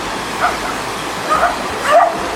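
Angry dogs by small houses near Kawasan Falls barking at people passing, three separate barks spaced about a second apart, moderately distant over a steady rushing background of falling water.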